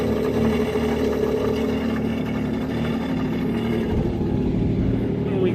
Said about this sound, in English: The engine's been running long enough.